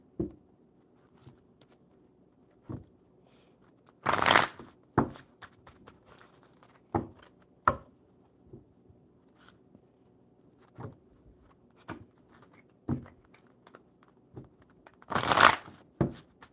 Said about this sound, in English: I'll shuffle it one more time